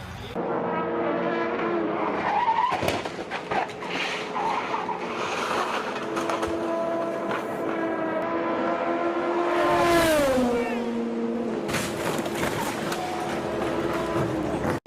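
Race car crashing into a wall during a racing event: loud sustained engine roar with shifting tones, a sharp impact burst near the middle and falling engine pitch afterwards, with commentators talking throughout.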